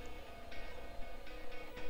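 Faint electrical whine from a stepper motor driven by PWM at stall torque inside a 3D-printed cycloidal actuator, a steady low hum with a few brief higher tones flicking in and out.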